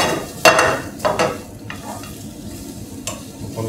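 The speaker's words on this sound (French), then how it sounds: "le fait de les faire revenir comme ça dans la matière grasse" Pumpkin pieces frying in fat in a pan, a soft continuous sizzle broken by a few sharp scrapes and stirs of a spatula, close by, with no talking.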